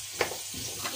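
Chicken frying in a pan for a stew with potatoes: a soft, steady sizzle with a brief stir or clatter near the start, close and fairly quiet.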